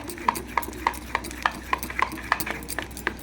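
Cake batter is stirred briskly in a bowl for a birthday cake, the spoon knocking the rim in a steady, even rhythm of about three beats a second, close and moderately loud, with faint background hum.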